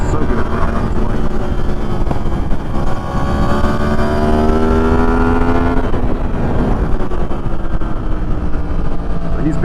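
A Yamaha MT-10 motorcycle rides along a road in a group with street fighter bikes, its engine a steady loud drone with rising and falling harmonic sweeps as it accelerates and shifts, wind rushing throughout.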